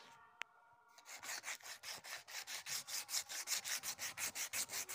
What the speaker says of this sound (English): For rubbing these lines, I use a sandpaper for rubbing these lines.